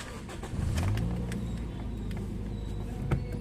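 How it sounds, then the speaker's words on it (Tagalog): A Toyota Vios sedan with its check-engine light on starts up and settles into idle, a brief rev giving way to a steady, close, low engine hum. "Start ko muna itong makina mga boss para makita ko rin."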